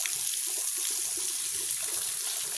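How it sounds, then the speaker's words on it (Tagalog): Water pouring steadily into a newly built concrete tilapia pond, a continuous bright rushing splash, close and even throughout with no voices. "So lalagyan natin ng tubig muna, papapawin muna natin ng tubig ito bago lagyan ng isda."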